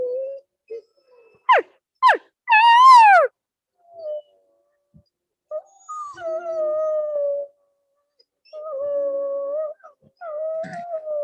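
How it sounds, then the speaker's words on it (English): A wolf howls at a wolf preserve, with a few sharp rising yelps and then long wavering howls that rise and fall and come back again over several seconds. There are quiet gaps in between, and the howls sound fairly close. "see if I can get closer to America because she's howling"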